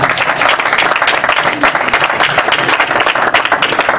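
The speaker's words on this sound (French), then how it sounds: "Applaudissez très fort" Loud, dense applause from a crowd, steady clapping throughout with no pauses.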